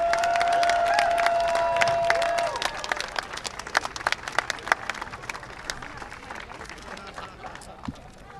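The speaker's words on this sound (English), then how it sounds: "I want you guys to give another round of applause" An audience at a mayor's downtown plan announcement applauds, steady clapping that tapers into scattered individual claps, with a person talking briefly near the start.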